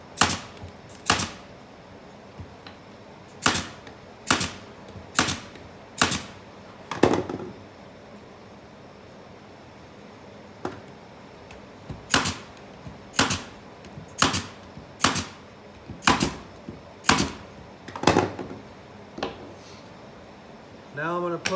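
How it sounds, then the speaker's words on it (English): A nail gun fires into trimmers and king studs while a window opening is framed, giving sharp, close pneumatic bangs in two quick bursts of about six shots each, separated by a quieter pause. "I'm going to nail my trimmers on first, 2 of my king studs."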